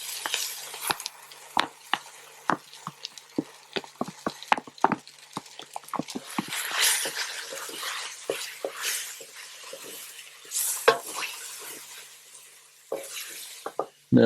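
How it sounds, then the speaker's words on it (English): Homemade curry paste stirred into a hot camping pan for a dehydrated Goan chicken vindaloo: close, irregular scrapes and clicks of the utensil over a soft, steady sizzle, with no talking. "So now I'm going to add my curry paste that I made."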